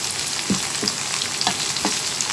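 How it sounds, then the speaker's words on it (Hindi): A tadka of fenugreek seeds and cumin sizzles in hot oil, a steady bright crackle with a few soft stirring knocks against the pan. "इसका हम तड़का रेडी करेंगे और इसको करेंगे मिक्स"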